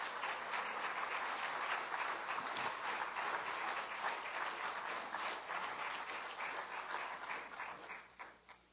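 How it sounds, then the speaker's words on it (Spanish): Congregation in a church clapping together during a Spanish-language sermon, a sustained wash of many hands that rolls on for several seconds, then thins and fades toward the end. "Eso se merece un aplauso al Señor."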